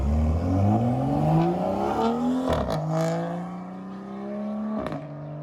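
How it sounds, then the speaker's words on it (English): A BMW M2 with a new aftermarket exhaust fires up on a cold start, rising in a loud revving whir, then settling into a deep, steady idle broken by brief sharp blips. "That first cold start sounded absolutely insane."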